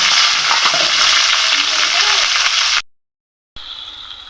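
Capsicum, green chilli and onion fry loudly in soybean oil in a pan, a dense close sizzle that cuts out abruptly for a moment before resuming.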